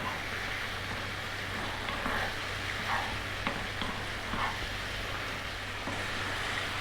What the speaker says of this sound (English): Now we really want to cook this out, so we're going to go for 5 or 6 minutes now.